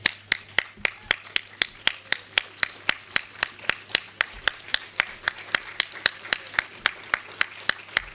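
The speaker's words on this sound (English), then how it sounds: "Let's stand and give them a round of applause." Clapping at a medical sciences student awards ceremony arrives as sharp, evenly spaced claps in a steady unison rhythm, about three per second, moderately close and continuing throughout.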